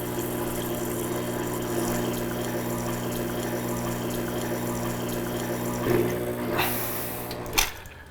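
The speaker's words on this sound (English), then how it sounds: "press brew again to start the pump, but then open the steam valve and you'll get hot water out" A Profitec GO espresso machine's pump hums steadily while hot water runs out through the steam valve, a continuous close drone with a trickle of liquid, ending in a hiss and a click.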